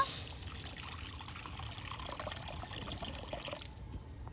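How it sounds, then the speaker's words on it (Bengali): Water poured into a wok set on a lit clay stove, a steady soft splashing flow throughout, fairly quiet and alone. "এবার উনানের মধ্যে একটা কড়া বসিয়ে দেব জল দিয়ে দেব"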